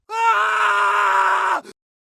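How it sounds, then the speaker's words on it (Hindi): A scream sound effect in a horror story: one loud, sustained, piercing human scream lasting about a second and a half, then breaking off abruptly into silence. "कबीर की चीख निकल गई"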